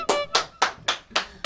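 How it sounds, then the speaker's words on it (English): Six loud, sharp hand claps spaced about a quarter second apart, close and crisp, each one standing alone. "Big claps for Miles."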